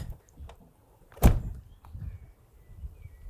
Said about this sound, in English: Now let's just shut the door.